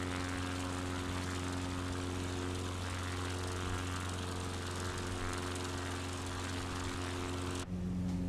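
Steady droning hum of a Piper Cub propeller engine in Microsoft Flight Simulator 2020, constant and even throughout with a slight shift in tone near the end.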